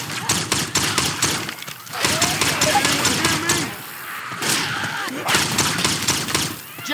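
Rapid bursts of gunfire in the video game Left 4 Dead 2, loud repeated shots in clusters separated by brief gaps, with in-game voices speaking among the shots.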